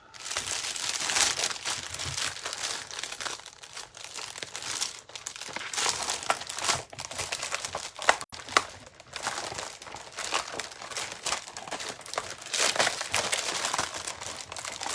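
Paper is rattled and crinkled continuously and close up for the whole stretch, making a loud, busy crackling with occasional sharper crunches.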